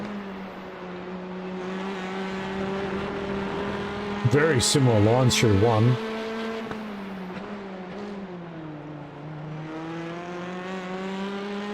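Racing engines rev as race cars draft one another around a track, a sustained whine that rises and falls through gear changes as a second car sweeps past mid-way, while a commentator talks over the engines.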